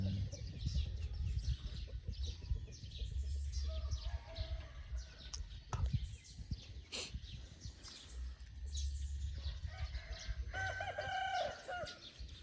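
A rooster crows in the distance at about six in the morning, after a night of rain, over a noisy outdoor background, with other fowl clucking faintly.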